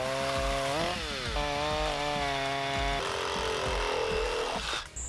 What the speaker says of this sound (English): I'm gonna use a chainsaw to knock down some of these big edges